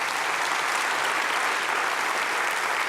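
Sustained audience applause fills a keynote hall at a business event, a dense, even wash of clapping from many hands with no break.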